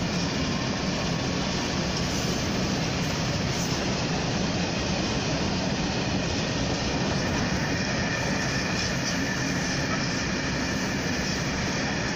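A Class 66 freight locomotive hauls a train past at Swindon, its steady, loud diesel rumble and rolling wagon noise filling the whole stretch without a break.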